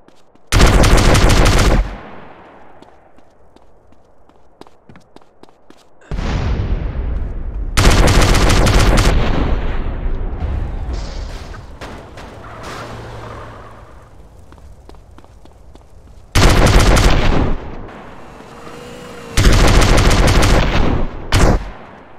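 Gunfire in the video game GTA San Andreas comes in loud, dense automatic bursts, four or five separate volleys of a second or more each, with quieter gaps of footsteps and ambience between them.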